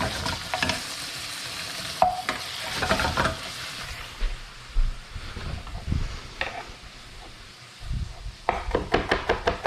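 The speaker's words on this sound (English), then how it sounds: "See how my pancetta's doing? Nice slow render on this." Pancetta slowly rendering in a pan for pasta alle vongole, a soft continuous sizzle with intermittent spoon scrapes and light knocks, close and moderately loud, no voices.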